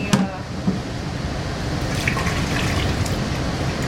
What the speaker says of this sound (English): So I just drain the water